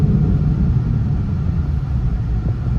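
A Ford Mustang GT500, 2020 or later, fitted with Power Stop Z26 brake pads, rumbles steadily and loudly through a hard acceleration and braking run. The low drone holds level for the whole stretch, with no talk over it.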